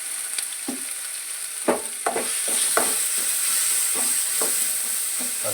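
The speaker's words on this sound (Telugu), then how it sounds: "పసుపు వేసి ఫ్రై చేసానండి." Turmeric frying in a pan gives a continuous bright sizzle, broken by a series of scraping stirs and light knocks at an uneven pace.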